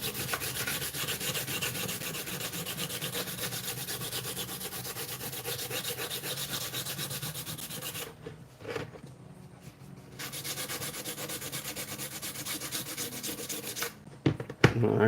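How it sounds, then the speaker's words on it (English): A 3D-printed part is hand sanded with a sanding stick in steady, rapid back-and-forth rasping strokes, close and continuous, with a brief pause partway through and a few knocks near the end. "this is just my ghetto Polish sanding stick"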